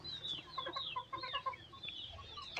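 Native country chickens cluck and chatter in short, overlapping bursts, fairly faint and close by, with a few higher squawks mixed in.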